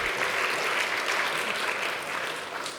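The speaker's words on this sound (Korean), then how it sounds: "제가 서울신대 가는 것에 박수 받은 건 처음이에요." A church congregation at an autumn revival service bursts into applause, a full, even crowd clapping that carries strongly and fades slightly toward the end.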